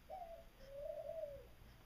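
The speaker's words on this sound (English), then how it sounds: "there's a bird who wants to say hello" A pet bird coos softly indoors at night, two smooth, gentle coo phrases close by in a quiet room, the second longer and drawn out.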